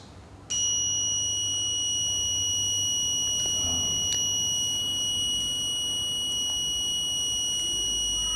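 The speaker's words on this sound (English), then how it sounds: "We can hear the buzzer sound" A piezo buzzer on a logic gate circuit board sounds a steady, loud, continuous high-pitched tone that switches on abruptly and holds unbroken to the end, with faint background hum.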